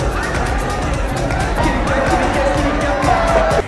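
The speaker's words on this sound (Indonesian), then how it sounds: "Di tengah kerumunan orang berpesta" A dense nightclub crowd parties, with loud, constant babble and chatter from many people mixed with music, steady throughout and close around the listener.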